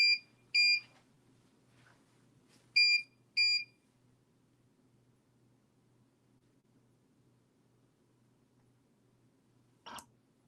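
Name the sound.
cutting machine beeping while checking crosshairs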